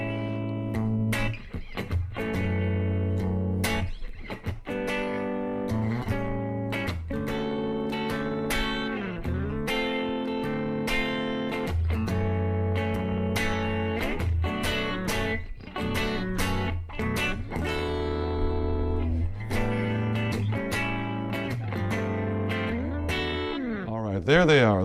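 Distorted, compressed electric guitar strums a run of complex chords in steady rhythm, loud and close, demonstrating a chord sequence in a vibrato guitar lesson.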